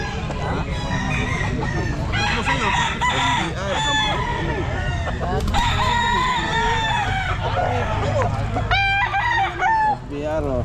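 A young rooster, a stag, crows repeatedly at a busy pet market, its calls loud and near amid clucking fowl, crowd noise and people talking throughout.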